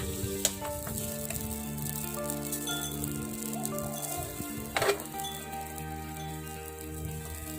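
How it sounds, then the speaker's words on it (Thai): Brown rice noodles stir-fry with dark soy sauce in a pan, making a soft, steady sizzle with an occasional scrape of the spatula; fairly quiet and close, with no talking. "แล้วก็ ผัดให้เส้นสุกก่อนนะคะ"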